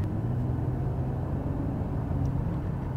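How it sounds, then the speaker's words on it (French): A 2005 Citroen C6 3.0 V6 petrol engine under light acceleration, heard from inside as a muffled, steady low rumble, well damped and even throughout, with no talking. "là j'aimerais bien vous faire entendre le moteur parce qu'on a quand même un V6 essence, non diesel"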